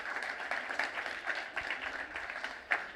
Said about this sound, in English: Applause again to Team Condicional.